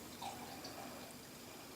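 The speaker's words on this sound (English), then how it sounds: "So let's pour it out." Beer poured from a bottle into a large wine glass makes a soft, steady liquid trickle and fizz, quiet and continuous with no talk.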